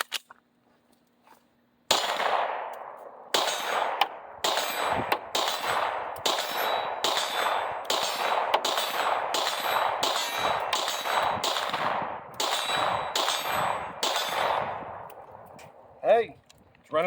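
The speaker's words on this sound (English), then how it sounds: "We'll put some more rounds through this thing." Glock 26 pistol with an aftermarket Zaffiri Precision RMR slide firing a string of about fifteen sharp, loud shots in quick uneven succession outdoors, each with a ringing tail, after a quiet pause.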